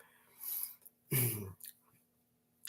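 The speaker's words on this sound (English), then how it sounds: "I gotta clear my throat." One person clears their throat in a short, close, raspy burst, with softer breathy sounds just before and a faint click afterward in an otherwise quiet room.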